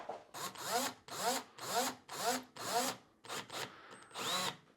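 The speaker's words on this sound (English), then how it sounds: "as you tighten the screw, the tab moves closer and closer this way, pinching the drywall" A power driver tightens a screw on an electrical box mounting tab against drywall, running in about seven short repeated bursts with brief pauses between them, close and fairly loud, with no talking.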